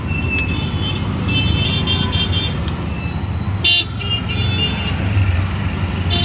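Busy street traffic during the Diwali shopping rush, with a loud continuous engine rumble and several short car horn toots in bursts, some close and some farther off, and faint voices in the background.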